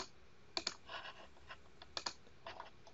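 Computer keyboard keys being typed during a software modeling demonstration, heard as two short bursts of rapid clicks followed by a few scattered single keystrokes, close and fairly quiet with no talking.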